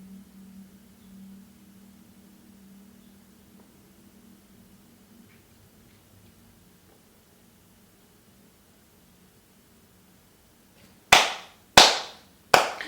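Three slow, deliberate hand claps ring out sharply near the end after a long stretch of near silence, spaced about a second apart.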